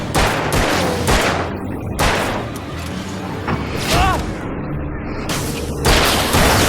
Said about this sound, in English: Anytime you see those red explosive barrels, you want to shoot them, because they'll nearly clear the entire room.